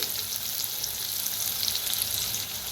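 Crushed garlic and green chili roast in a hot pan for an eggplant bharta, giving a steady, close sizzle and crackle that runs unbroken with no talking.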